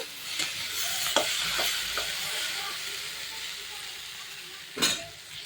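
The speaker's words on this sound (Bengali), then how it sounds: "পেঁয়াজি আলু দিয়ে এখানে হচ্ছে ভাজা" Oil sizzles and hisses steadily as potato and onion fritters fry, with occasional clinks and scrapes of stirring, and one sharper clatter near the end.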